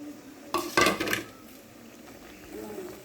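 Sweet jorda semai vermicelli is stirred in a cooking pot, a short cluster of metal clinks and scrapes from the spoon against the pot, then quieter stirring.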